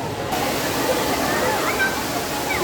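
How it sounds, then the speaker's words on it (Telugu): An artificial waterfall inside an aquarium gives a constant, close rush of falling water, steady and broadband throughout. "ఇక్కడ వాటర్ ఫాల్స్ సృష్టించినారు"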